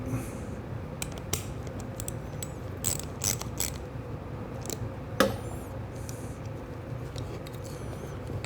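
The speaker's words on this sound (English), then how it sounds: "Put the screw in. The 4mm Allen. Tighten that up." A 4 mm Allen key tightens a screw while a retro turn signal is fitted to a Ducati Scrambler, with quiet clicks and small metallic ticks spaced unevenly over a faint background hiss.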